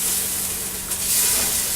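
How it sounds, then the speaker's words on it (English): Pizza sauce with basil and crushed red pepper flakes simmering in a pot as it is stirred, a steady close hiss and sizzle with soft scraping, alone without voices. "Stir that up"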